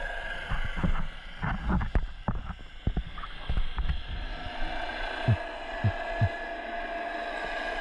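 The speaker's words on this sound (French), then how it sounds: "j'espère que vous entendez bien le bruit du bateau" A low boat engine drones and thumps underwater off the coast of southern Brittany, with scattered knocks and clicks over a murky, muffled background hum.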